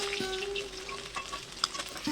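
Katla fish pieces frying in oil in a pan, a soft, even sizzle running continuously with faint crackles, fairly quiet and without any voices.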